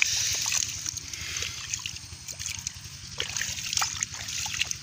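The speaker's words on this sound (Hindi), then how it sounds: "गांव का बहुत ठंडा पानी होता है ट्यूबवेल का" Water from a village tubewell pours and splashes steadily, a running, trickling flow with small splatters, close by and continuous throughout.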